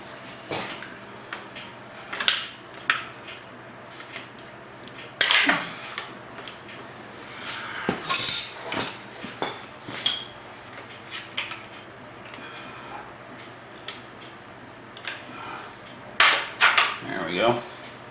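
Metal clanks and scrapes from prying with a flathead screwdriver or pry bar while working on a Ford Bronco II, coming as scattered sharp clicks and clatters with brief bursts and quiet gaps between them.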